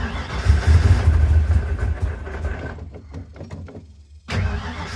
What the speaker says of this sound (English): It'll burble for a minute, won't start.